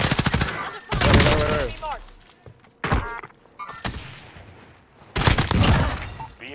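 Gunfire in Call of Duty: Warzone, loud bursts of rapid shots at close range with heavy thumps, broken by short quiet gaps while players talk over the action.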